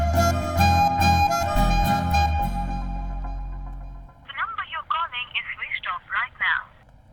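A phone call to a switched-off phone plays a tonal ringing signal with steady repeated beeps for a few seconds, then a recorded voice message follows.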